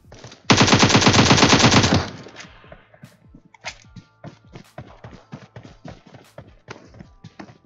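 PUBG Mobile gunfire from UMP, AKM, Groza and Mini rifles: a loud, close sustained automatic burst of about a second and a half, followed by scattered single shots and soft footstep-like clatter.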